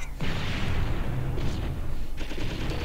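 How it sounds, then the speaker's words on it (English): Sustained machine gun fire rattles steadily in a video game, dense bursts running throughout with booming impacts layered in, loud and continuous. "this machine gun's awesome"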